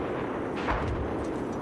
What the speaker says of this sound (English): Hey, we got friendly mortars coming in.